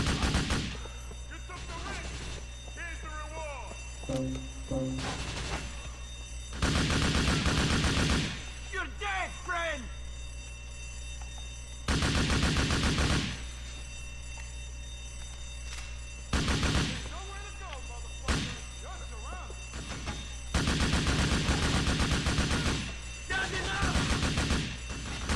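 Gunfire in the Grand Theft Auto IV video game: loud, repeated bursts of shots separated by quieter gaps, with someone talking between volleys.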